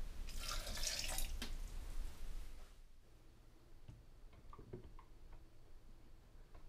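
Water splashes and pours into a Blendtec Designer 725 blender jar for a couple of seconds, followed by quiet drips and small clinks.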